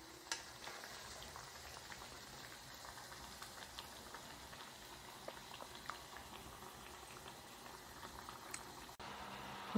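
Banana flower cutlets fry in oil in a pan, giving a steady, moderately faint bubbling sizzle with small scattered crackles over about ten seconds and a brief dip near the end; no voices.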